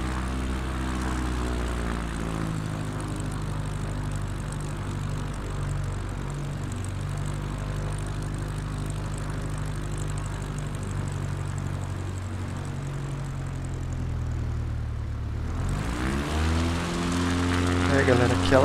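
Propeller airplane in Microsoft Flight Simulator at Rio Largo, Alagoas, its engine droning steadily and then climbing sharply in pitch and loudness as it speeds up for takeoff, with a voice talking over it.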